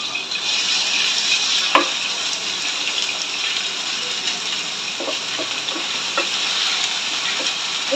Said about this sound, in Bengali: এই চিকেনটা ভেজে নিচ্ছি